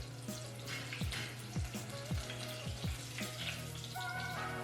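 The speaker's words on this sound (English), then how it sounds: "So now that they're frying, I fry them for a minute to a minute and a half" Shrimp fry in hot oil for a crispy po boy, giving a faint, steady sizzle with a few soft pops and knocks scattered through it.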